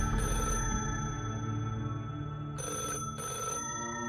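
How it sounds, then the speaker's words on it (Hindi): A telephone bell rings in a Hindi horror cartoon, two bursts over a sustained droning tone, the second burst split into quick repeated trills. "तभी एकदम से एक टेलीफोन की घंटी बजने लगी।"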